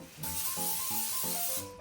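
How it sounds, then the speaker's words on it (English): A steady aerosol hiss of cooking spray onto a pan sprays for almost two seconds, close and continuous, with faint tonal background hum underneath. "Spray your pan,"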